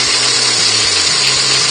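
A friction bowl sander works a wooden bowl spinning on a woodturning lathe, giving a steady, loud, continuous hiss and whir with a low motor hum underneath, unbroken throughout.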